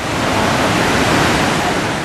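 Rhine Falls waterfall, a huge mass of water crashing into a lake, heard as a loud, steady, broadband roar that fills the whole clip with no voices.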